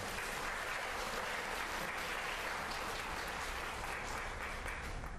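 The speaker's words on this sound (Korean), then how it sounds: "박수 한번 쳐주시기 바랍니다" Audience applause at a university lecture by a provincial governor, a dense, continuous patter of many hands. It sounds faint and distant, evenly sustained with no talk over it.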